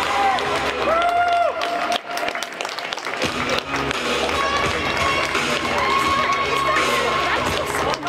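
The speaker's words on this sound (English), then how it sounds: "Give him a round of applause." Spectators at the Edinburgh Men's 10K road race clap and cheer loudly and continuously, a dense outdoor crowd roar with shouts and a voice calling out over the top.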